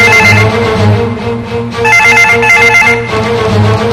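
A telephone rings with a repeating electronic trill, loud and close, in steady bursts with short gaps between them and nothing else heard.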